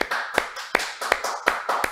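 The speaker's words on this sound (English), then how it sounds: "we're going to give her a round of applause" Close, evenly spaced claps ring out as a round of applause for a guest on a talk show, about six sharp hand claps in a steady rhythm, sounding like just one or a few people.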